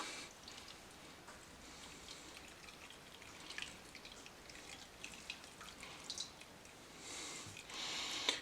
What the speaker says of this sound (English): now I'm going to basically squeeze the seeds inside the bag like I would when making a nut milk